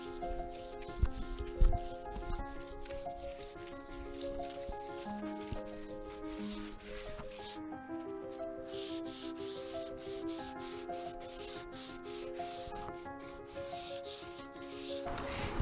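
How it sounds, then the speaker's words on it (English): Steady hand sanding on a wooden desk, a continuous scratchy rubbing with regular back-and-forth strokes, close and moderately loud, with faint background music throughout. "I'm going to go ahead and keep sanding"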